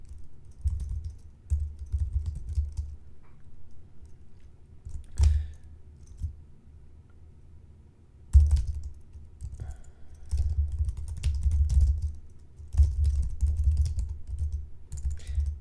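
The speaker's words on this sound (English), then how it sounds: "I'm just going to finish typing out my prompt" A computer keyboard clatters as a prompt is typed out for an AI tool: close, fast bursts of key clicks with short pauses between runs and a few heavier taps, with no voice.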